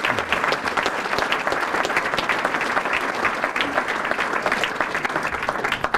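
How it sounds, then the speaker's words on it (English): Steady, dense applause from a dinner audience at a community awards banquet, sustained clapping throughout with no break and little talk over it. "Let's give them a big round of applause."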